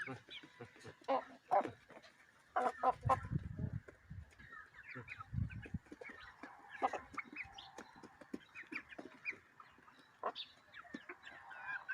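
Hens cluck and chicks peep in scattered, busy bursts close by, with a few deeper honking calls and occasional voices mixed in.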